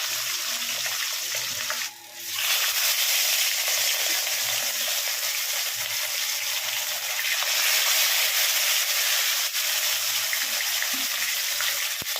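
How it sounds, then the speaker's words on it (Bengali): Fish head, cumin, chopped onion and potatoes fry in hot oil, giving a steady, close sizzle that continues throughout with a brief dip early on and no talking. "মাছের মাথাটা তেলের মধ্যেই রয়েছে একটু জিরে ফোড়ন দিয়েছি দিয়ে তে ইয়েটা পেঁয়াজ কুচিটা দিয়ে দিয়েছি তারপরে আলুগুলো দিয়ে দিলাম ভালো করে ভেজে নেব"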